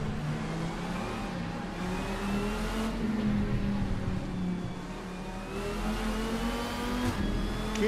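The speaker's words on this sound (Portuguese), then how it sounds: "E o barulho que faz, cara, quando você tá com outro carro do lado" A race car engine in Assetto Corsa (RSS GT mod pack) drones and revs continuously, pitch rising and falling with gear changes, with another car's engine audible alongside, no talking.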